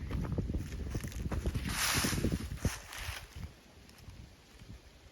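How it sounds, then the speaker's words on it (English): Gusty wind buffets the microphone outdoors at a classic car salvage yard, rumbling and thumping in uneven bursts, easing off toward the end. "It's a little windy out here, so sorry if you can't hear me that good"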